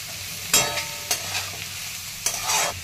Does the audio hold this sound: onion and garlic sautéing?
yes